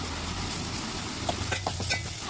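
Onion paste and tomato paste with turmeric fry in a pan for a Telangana-style fish curry while being stirred, giving a steady close sizzle with a few soft scraping strokes toward the end.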